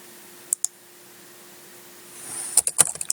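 A computer mouse clicks on a software menu while resolving a case in CRM 2016: two crisp clicks near the start, a quiet pause, then a brief cluster of sharper clicks over a faint room hiss.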